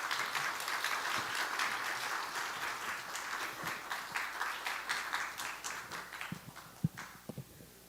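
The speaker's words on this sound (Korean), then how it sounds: "우리 나오실 때 크게 환영의 박수로 맞이하겠습니다." A church congregation gives a long round of welcoming applause for a woman church officer coming forward to testify, dense steady clapping that gradually thins out to a few scattered, louder individual claps near the end.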